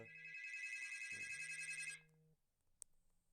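An incoming call sets a phone ringtone chiming steadily and loudly for about two seconds before it cuts off, leaving quiet room tone with a brief click.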